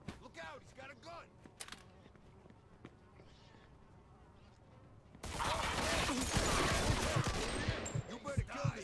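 Gunfire erupts in a Mafia II shootout, a loud burst of crackling shots beginning partway through and continuing densely after a quieter stretch with scattered sounds and voices.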